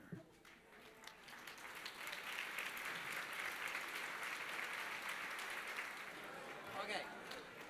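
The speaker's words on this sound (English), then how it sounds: "I just want to say that applause did not bode well" Applause from a dinner audience at a library awards ceremony swells after a quip and holds as a steady, dense wash of clapping for several seconds.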